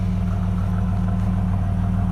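A 1989 Pontiac 20th Anniversary Turbo Trans Am with a stock turbo tweak chip idles smoothly and steadily up close, a low even rumble with no voices over it.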